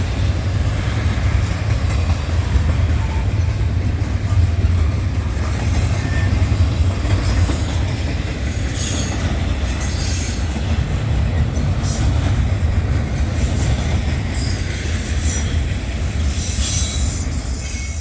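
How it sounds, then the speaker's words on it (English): Norfolk Southern freight train 20R, running from Chicago to Newark, rumbles loudly and continuously through a junction on the Chicago Line at South Bend, Indiana, with wheels clattering and squealing throughout. "20R from Chicago, Illinois to Newark, New Jersey cleared the junction."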